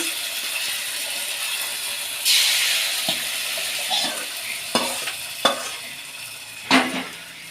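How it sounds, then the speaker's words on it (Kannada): Hot oil sizzles with a steady hiss as spices are tempered for a raw mango yogurt gojju, broken by a few sharp crackles and spoon scrapes against the pan. "ಈಗ ಇದು ಮಾವಿನಕಾಯಿ ಮಲ್ಲಿಗೆಗೆ ಒಗ್ಗರಣೆ ಕೊಟ್ಕೊಳ್ಳೋಣ"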